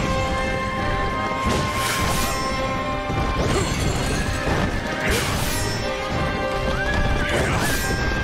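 Fighting game action from Wo Long: Fallen Dynasty, with a horse neighing and hooves clip-clopping at a gallop. Loud crashes and impacts sound over a dense, constant game soundtrack.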